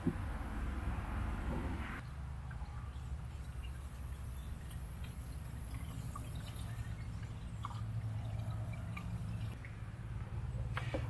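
Coolant pours and trickles into the radiator of a 2007 Cummins 5.9 diesel, a soft steady liquid flow with faint drips and gurgles over a constant low background hum.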